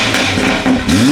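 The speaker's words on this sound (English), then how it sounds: "We just revved it." A car engine revs hard in loud bursts, the pitch climbing and dropping with a rough, rattling growl, close by.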